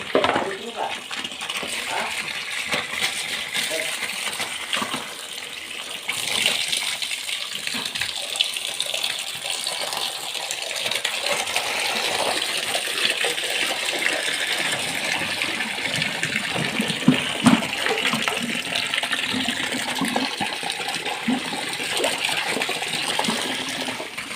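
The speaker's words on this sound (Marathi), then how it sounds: "पाईपातून पाणी असं खळखळून गेलं" Water rushes and gurgles steadily through a pipe for the whole stretch, a loud, continuous splashing flow with occasional knocks and clatters.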